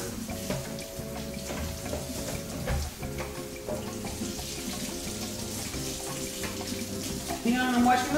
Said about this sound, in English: I'm washing the lid